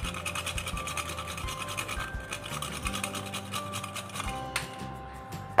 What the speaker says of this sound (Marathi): जायफळ हे आपल्याला किसून घालायचं आहे, म्हणजे याचा स्वाद हा खूप छान लागतो